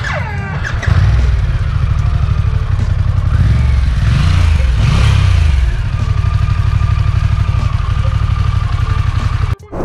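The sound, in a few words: Harley-Davidson Pan America Special motorcycle exhaust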